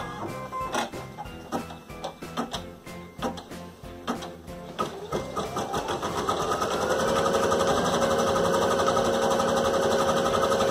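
A Brother BP 1430L embroidery machine stitching a deer design, starting with a rapid clattering rhythm of needle strokes and then settling into a steady continuous mechanical whir, loud and close with no talking.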